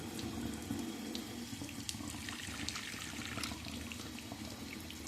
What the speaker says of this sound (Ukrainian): У вас тече цілком вода достойної температури